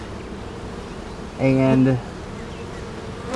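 Honeybees buzz around an open hive during June swarm season, one loud close buzz swelling for about half a second mid-clip over a steady background hum, with a brief spoken word.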